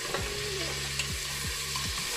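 Veal pieces brown in a pan for a tajine, producing a steady close sizzle with a few soft scraping stirs and low knocks, without any talking.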